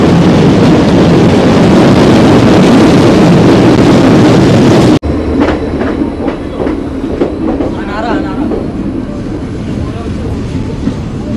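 The 13512 Asansol–Tatanagar passenger express runs on its rails with a loud, dense rumble for about five seconds. It then cuts abruptly to a quieter rattle with rhythmic clacks and faint voices in the background.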